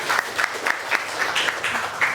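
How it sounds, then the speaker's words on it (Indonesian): Schoolchildren in a classroom clap together in a loose, roughly regular rhythm, a small group applauding briefly at moderate volume, close and unaccompanied by talk. "tepuk tangan buat kita semua"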